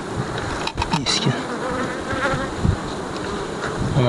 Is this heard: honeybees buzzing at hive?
yes